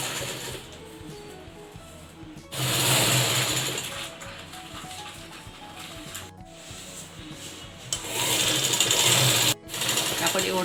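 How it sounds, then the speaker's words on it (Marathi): A sewing machine runs steadily while it stitches a baby blanket, its whirring rising louder in two longer bursts. Someone speaks over the machine. "तर आता आपण शिवून घेऊया."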